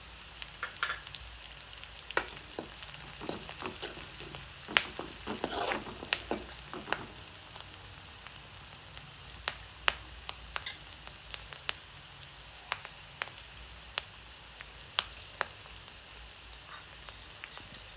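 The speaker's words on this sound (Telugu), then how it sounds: "ఆనియన్ కలర్ చేంజ్ అయ్యే వరకు ఫ్రై చేసుకున్నాక కొద్దిగా పసుపు వేసుకొని కలుపుకోవాలి" Chopped spring onion frying in a pan as a pinch of turmeric is stirred in, giving a faint, steady crackle with scattered sharp pops and a few scraping stirs, no voices.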